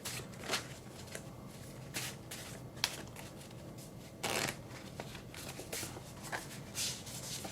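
Tarot cards are shuffled close by: soft papery riffles and flicks, with a few sharper slaps, quiet and irregular, with no voices.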